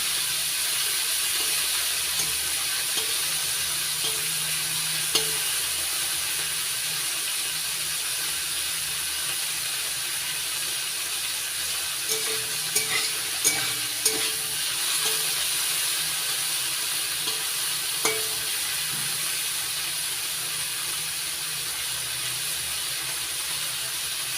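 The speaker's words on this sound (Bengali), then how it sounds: "এবার নাড়াচাড়া করে ভেজে নেব" Prawns and bottle gourd are stir-fried in a pan, giving a steady, even sizzling hiss throughout with a few faint clicks and scrapes of the spatula, close by and continuous.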